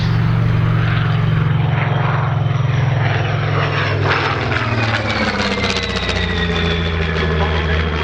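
A Supermarine Seafire F.Mk.XVII flies past at an air display at Old Warden, its piston engine and propeller giving a loud, steady drone whose pitch shifts as the aircraft passes overhead.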